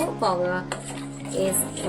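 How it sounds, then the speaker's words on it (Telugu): Ragi flour being stirred into boiling water in a pot, with scraping and light clinks of a spoon against the vessel continuing steadily throughout, a voice partly audible under it. "మరుగుతున్న వాటర్లో అయితే నేను ఇలా కలుపుతున్నాను"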